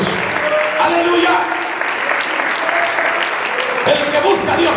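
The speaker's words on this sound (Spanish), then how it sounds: "Un fuerte aplauso a Cristo esta tarde." A church congregation applauds, a steady wash of clapping from many hands. A voice and crowd noise mix into it throughout.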